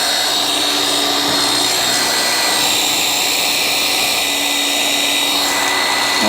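A DeWalt cordless power washer runs with a steady loud motor whine and spray hiss that dips and shifts in pitch as the pump loses prime, close up with no talking.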